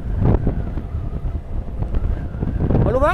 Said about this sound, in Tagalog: Ganda yung hangin dito.